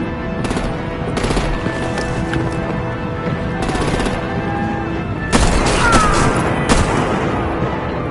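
Rapid gunfire bursts and heavy artillery booms from the Batman Telltale video game, The Enemy Within, fire in several loud clusters over a steady rumbling combat backdrop, growing denser toward the end.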